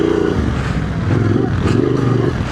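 An AJP PR7 motorcycle on a track, its engine note loud and close, rising and falling in short revving pulses.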